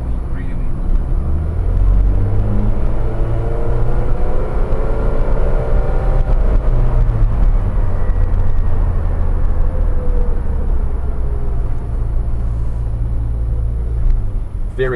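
A 1991 Subaru Sambar Dias2 supercharged all-wheel-drive kei mini van, kept in collectible condition, drives along with a steady loud engine and road rumble that holds constant throughout, with no voices heard.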